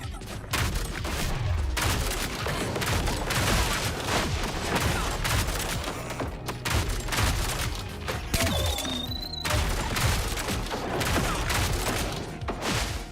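Rapid gunfire in the ODDCORE shooter, a steady fusillade of sharp shots cracking almost continuously at moderate level, with faint background game sounds.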